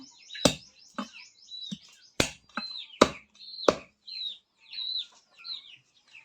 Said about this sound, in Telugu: ఈ లెగ్గులు అనేది సపరేట్గా ఇట్లా కట్ చేసుకోవాలి